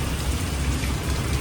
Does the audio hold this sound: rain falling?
yes